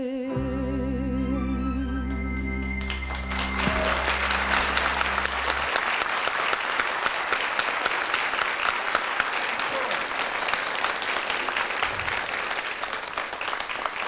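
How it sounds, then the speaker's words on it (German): Applause from a studio audience at a German television talent show breaks out as a sung performance's final held chord fades, then swells into steady, dense clapping that carries on loud and continuous. "Hast großen Applaus gehabt auch von Udo"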